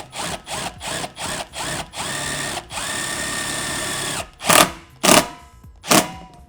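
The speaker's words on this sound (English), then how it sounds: "So drill it and screw it through." A power drill whirs in a run of short bursts, then a longer steady spin, ending with a few sharp, gritty bursts as a screw bites into metal while installing an air conditioning balancing damper.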